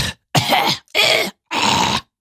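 A run of three short, rough throaty bursts from one person, each under half a second with brief silences between, close and loud, sounding like coughing or throat clearing with no talk.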